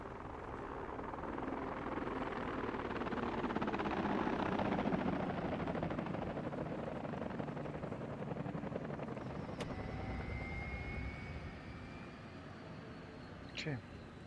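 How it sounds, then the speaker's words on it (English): Firefighting helicopters in the video game Workers and Resources, a continuous droning rotor and engine roar holding steady throughout, with brief high tones and a faint chirp near the end. "one helicopter will douse the fire a little bit, and then at some point 3 helicopters in addition to that will arrive and hopefully extinguish anything"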